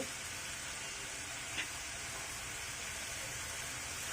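A chicken snack mixture with tomato sauce being stirred in a hot pan, a steady, even sizzle with a single faint scrape partway through.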